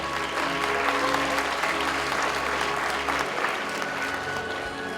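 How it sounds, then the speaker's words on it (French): Warm applause at the closing awards ceremony of the Clap en Herbe film festival as a trophy is handed over, many hands clapping steadily and loudly, tapering slightly near the end. "On applaudit très très fort."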